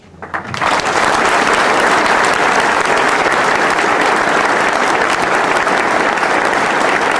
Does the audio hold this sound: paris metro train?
no